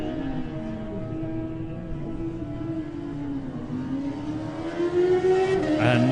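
Kawasaki superbike at the Classic TT race, its engine droning steadily with rising pitch and growing louder toward the end as it pulls away from the start, alone without talk.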